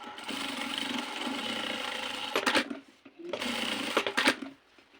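A sewing machine sews a skirt waistband in two close, loud bursts of rapid whirring stitching, each ending with a few clicks and separated by a short pause, with no voices.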